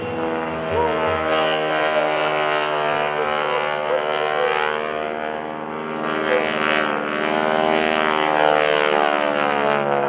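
An aerobatic propeller airplane performs a loop at an air show, its engine droning loud and steady with a rising and falling pitch as it climbs and dives, close to the listener throughout.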